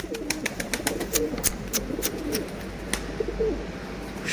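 Pigeons coo in low, repeated murmurs under a busy backdrop of chirps and sharp clicks, fairly close by.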